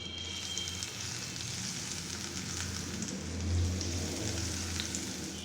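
Continuous hissing sizzle of hot tempering oil poured over kadhi pakora curry, close and steady, with a brief low bump partway through.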